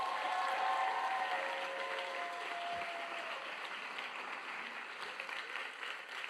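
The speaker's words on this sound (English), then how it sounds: "Let's do one final round of applause for our seniors" Applause from an audience honoring graduating seniors at a high school Sunday gathering, a sustained dense wash of clapping that slowly thins over several seconds.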